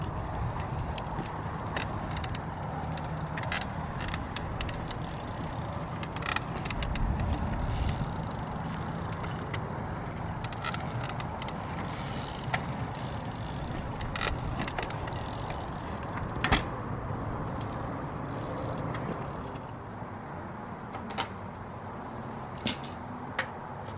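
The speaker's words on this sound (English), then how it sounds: "Now I'm gonna let you listen to how much noise my bottom bracket is making." A creaky bottom bracket on a downhill bike, irregular sharp creaks and ticks over a steady mechanical whir as the cranks turn, close by with no talking.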